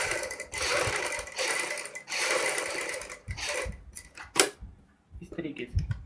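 A sewing machine stitches around a kurti neck alongside buckram, running in several steady bursts with short pauses and a few sharp clicks between them.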